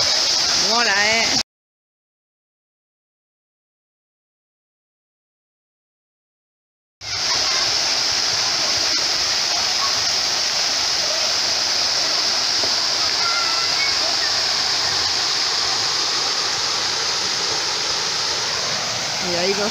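Heavy water pours from a giant tipping bucket and tree-shaped fountain onto slides at an outdoor water park, a loud continuous roaring splash that fills the scene after a brief silent gap.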